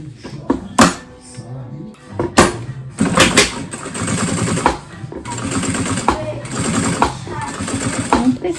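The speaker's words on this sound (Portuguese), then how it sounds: "Vou passar uma costura bem na beiradinha, só pra prender" A sewing machine stitches close to the edge of a heart-shaped bag, joining the lining to the outer panel with a loud, rhythmic mechanical chatter in several bursts, while a voice speaks at times.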